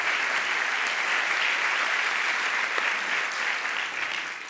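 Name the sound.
audience applause welcoming a guest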